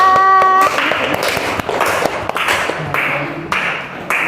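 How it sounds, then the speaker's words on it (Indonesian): A class applauds its final presentation group, with scattered individual claps and taps close by and a brief sustained tone at the start before the uneven clapping carries on. "Beri tepuk tangan untuk kelompok terakhir kita."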